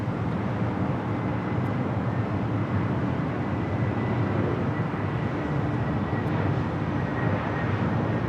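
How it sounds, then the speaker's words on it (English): A Delta Airlines Airbus A321 arriving at LAX from Atlanta, a loud steady jet roar with broad rumble holding evenly throughout, no voices over it. "Delta Airlines flight 500 coming in from Atlanta on the A321."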